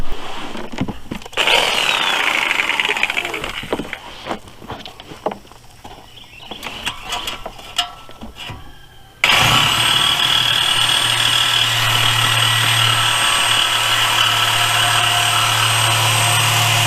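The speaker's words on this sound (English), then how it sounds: "I'm going to hack the muffler off right back here at the back" A power tool cuts through the muffler at the back of a Buick with loud, uneven grinding and sputtering bursts, then settles into a sustained, steady high-pitched whine.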